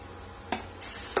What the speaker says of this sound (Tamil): கொடமிளகாவும் இதோட சேர்த்து வதக்கி விட்டுருங்க